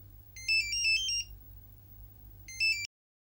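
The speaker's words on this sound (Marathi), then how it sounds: "फोन वाजतोय तुझा." A mobile phone ringtone plays a bright electronic melody in two short bursts with a pause between them, heard over a low hum in a quiet indoor scene from a TV serial.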